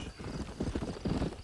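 A horse in the video game Red Dead Redemption trots with quick, close clip-clop hoofbeats, and faint neighing mixes into the rhythm.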